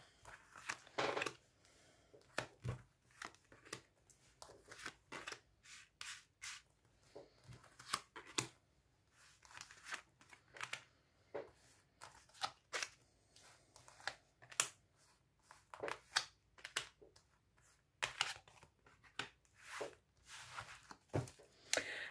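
Tarot cards shuffled and drawn for a reading: soft, quiet papery riffles and flicks in irregular bursts, with close crisp slaps and rustles spread across a long stretch, and no talk.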